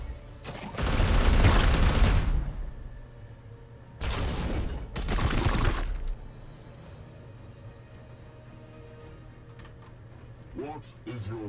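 A loud Psychic Onslaught attack in Chaos Gate Daemonhunters, two heavy booming bursts that blast out and cut off, with quieter game ambience between and after.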